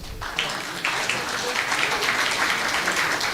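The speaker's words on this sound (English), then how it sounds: "Big clap, please." An audience at a town planners' zonal conference claps in a dense, sustained burst of applause that swells after a brief start and holds steady throughout.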